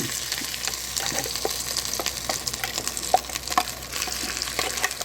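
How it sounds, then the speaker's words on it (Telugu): Cumin seeds tempering in a spoonful of hot oil for a chutney of ajwain leaves and veldt grape, a steady close sizzle and crackle with a few sharp pops. "జీలకర్ర వేసి పోపు పెట్టాను"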